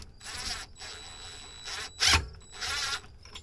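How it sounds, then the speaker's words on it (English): A 7/16-inch or 11mm wrench works on a fastener of an OMARV TSR 160 flail mower, giving a few close, raspy ratcheting bursts with brief pauses and one sharper metallic clack in the middle. "And then I've got my 7/16 wrench or 11mm wrench"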